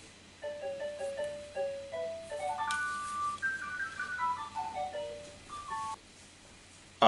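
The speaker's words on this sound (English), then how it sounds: "Obviously the phone rings." A melodic phone ringtone from the startup sequence of a New Nintendo 3DS, a run of rising and falling electronic tones lasting several seconds, clear and alone with no voices.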